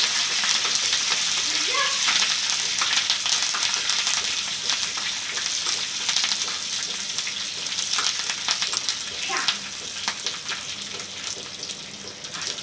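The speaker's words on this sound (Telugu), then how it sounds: "3 ఎండుమిరపకాయలు, కొంచెం కరివేపాకు, ఇవన్నీ కూడా బాగా వేగాలండి." Dried red chillies, curry leaves and chana dal crackle and sizzle in hot oil as a tempering for bottle gourd chutney, a steady, loud, close frying hiss with occasional stirring, no voices.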